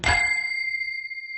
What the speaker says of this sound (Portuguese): Mas não tocou o sininho?